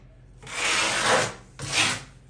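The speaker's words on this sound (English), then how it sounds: "You can see I'm scraping across it and it's not even leaving anything there." Two rasping scrape strokes drag across a seam, one long and one shorter, close and fairly loud with a brief pause between them and no talking.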